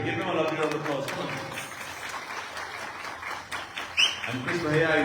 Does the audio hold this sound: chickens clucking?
no